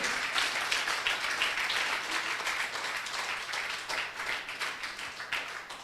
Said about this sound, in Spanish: ¿Cuántos le dan ese aplauso al Señor Jesús?